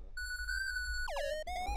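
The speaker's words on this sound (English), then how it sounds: "I have like a pretty basic like sine square type sound loaded up" A basic sine-square synth tone in Ableton holds a steady pitch, then swoops down to a lower note with a bright, buzzy edge, over a low background hum.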